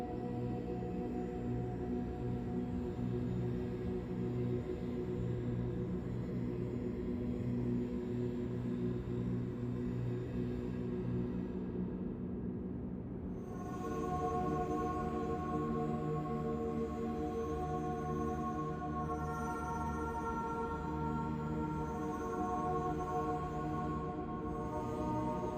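Warbly, wavering echo music from the video game Rain World plays as a quiet, sustained drone of layered tones, its texture shifting partway through, with no speech.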